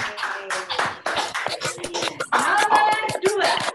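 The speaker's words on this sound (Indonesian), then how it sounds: "tepuk tangan untuk kalian semuanya." Students clap in a classroom, a burst of quick, uneven hand claps close by, sharp and crowded, with no voices over them.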